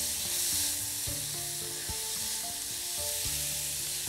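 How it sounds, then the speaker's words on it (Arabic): Dried coriander, thyme and cumin stirred while frying in a pan, with a steady close sizzle and repeated scraping knocks of the spoon against the pan. "نحط كزبرة ناشفة، نحط شوية زعتر، نحط شوية كمون، نقلب الكلام ده كله"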